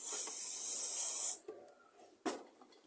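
Carburettor cleaner sprayed through a Stihl FS 38 trimmer carburettor, a loud, close, continuous hiss lasting over a second, then a few faint clicks and a short burst of handling noise.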